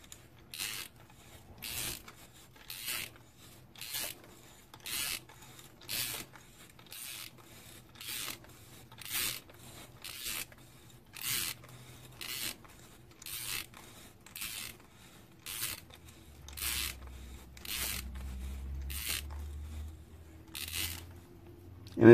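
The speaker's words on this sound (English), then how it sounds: "And I will use my wrench again on the Foster fitting to tighten this." A wrench tightening a Foster fitting on a Benjamin Marauder air rifle regulator gives a steady series of short ratcheting creaks, about one each second, close and clear with a low hum underneath.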